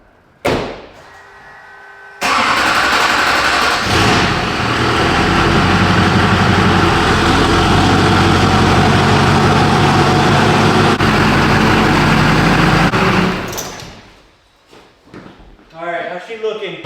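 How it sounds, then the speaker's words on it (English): A 20-year-old rusty Duramax diesel truck runs loud and steady as it backs up, its low engine rumble filling the clip after a door-like thud, then easing off near the end. "I'm gonna go ahead and just back the truck up. So I'm gonna roll it and just see how it looks."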